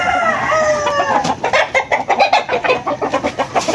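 Sweater gamefowl hens on a game farm clucking and chattering in quick repeated bursts, close and loud, with a brief higher call near the start.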